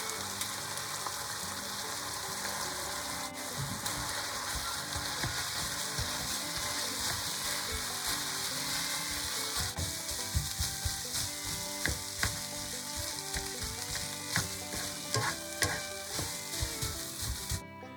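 Rice stir-fried in a wok with lamb, salt, chicken powder and cumin seasoning gives a steady close sizzle throughout, with scraping and clattering spatula strokes growing busier toward the end.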